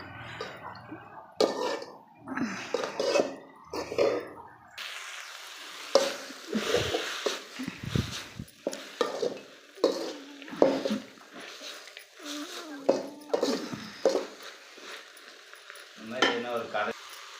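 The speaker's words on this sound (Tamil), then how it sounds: "நம்ம நல்லா கொத்தமல்லி, புதினாலாம் நல்லா வணக்கிக்கலாம்." Coriander and mint leaves sautéing in a pan for a chutney, with soft sizzling and repeated scraping stirs that come in bursts, while someone talks over much of it.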